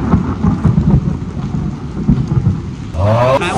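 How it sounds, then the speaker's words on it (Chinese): Thunder rolls through a heavy downpour outdoors in Taiwan, a loud deep rumble over dense rain hiss and spatter, close and enveloping, followed by a sharper surge of sound near the end, with no voices. "打雷。"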